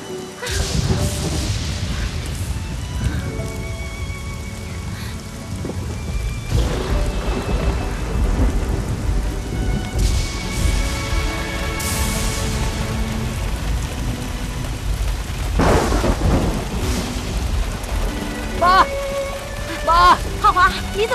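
Heavy rain pours down in a loud, continuous roar while deep thunder rolls and cracks repeatedly, with faint voices and tones in the background.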